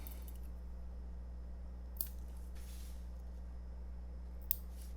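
Scissors snip excess fly-tying thread after a knot is finished, two short, sharp cuts about two and a half seconds apart over a steady low background hum, close and clear with no talking.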